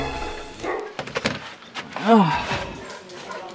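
Dogs greet someone at a door with a short bark and a rising whimpering yelp amid rustling and a door sound, with a person exclaiming briefly nearby.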